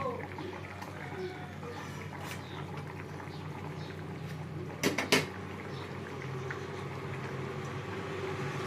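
A lid comes off a pot of simmering egg omelette curry with a couple of sharp metallic clanks midway, over a constant low bubbling and kitchen hum.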